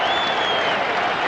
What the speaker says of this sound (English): And the crowd here at the MGM Grand appreciating the efforts of both Christy Martin and Deirdre Gogarty